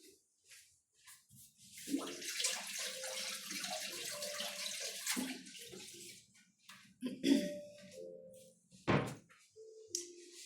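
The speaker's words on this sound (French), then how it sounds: "Je me lave les mains et je reviens." Hands washed under a running kitchen tap, with a soft hiss of flowing water, faint splashes and a couple of thuds, heard at moderate distance and fairly quiet.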